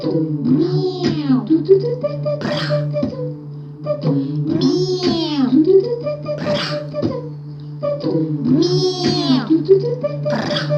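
A human voice imitates a cat meowing, repeated in three looped phrases of drawn-out, wavering mews over a steady low hum, with an even rhythm throughout.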